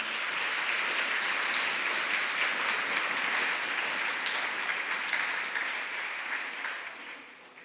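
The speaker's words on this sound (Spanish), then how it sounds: "Les brindamos un merecido aplauso a los participantes." An audience at a regional oratory competition award ceremony in Colón province applauds the participants with sustained, even clapping lasting several seconds before fading at the end.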